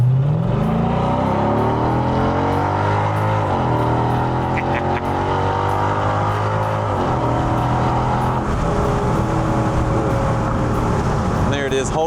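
A Mercedes-AMG SLK55 convertible pulls at full throttle, its engine note climbing repeatedly through the gears with sharp drops at each shift, loud and close throughout, with voices talking over it.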